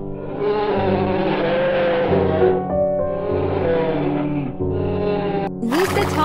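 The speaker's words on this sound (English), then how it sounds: "Grizzly bear." A grizzly bear gives several drawn-out, moaning vocal calls in a run of long phrases with brief pauses, loud and close, ending in a sharper rising cry.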